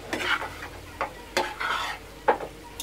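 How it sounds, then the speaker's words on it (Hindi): Vegetable chow mein with soy sauce tossed in a pan over high flame: several quick, loud stirring scrapes and clatters in bursts over a continuous frying sizzle, with no talking. "इसे अच्छे से मिक्स करूंगी। इस तरह से मिलाते रहे इसे हाई फ्लेम पे ही बनाना है।"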